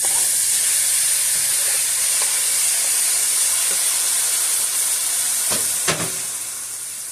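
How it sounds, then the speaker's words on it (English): Onion and garlic sizzling in a tablespoon of avocado oil in a pan preheated to medium heat on a stovetop, a steady, close, loud hiss of frying that runs without a break and carries a few faint clinks. "we're going to come in with our onion and our garlic"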